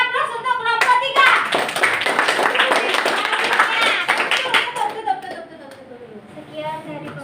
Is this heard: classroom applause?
yes